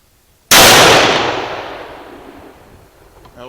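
A single loud, close rifle shot from a Remington 700 ADL firing 140 grain SST ammunition, a sharp crack followed by a long, slowly fading echo.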